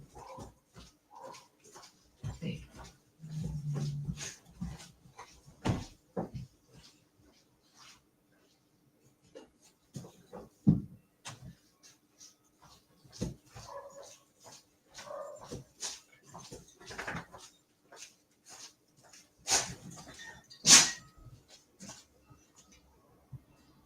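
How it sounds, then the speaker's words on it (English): A big dog whimpers and gives intermittent yips and barks indoors, scattered irregularly with brief scuffling and clicks between, moderately close, with quiet stretches between outbursts. "that was just the big dog coming"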